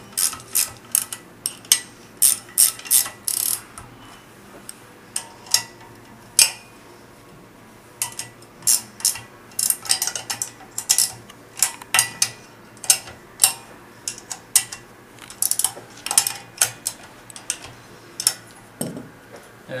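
Steady ratcheting clicks from a wrench tightening the collar, volute and motor bolts on a Scot 211 pump during a mechanical seal replacement, coming in rapid bursts with short pauses, close and fairly loud, with no talking.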